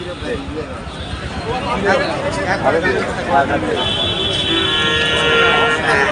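Cattle moo amid a busy crowd at Mahasthan livestock market, with steady chatter and babble all around, a long low call rising near the end.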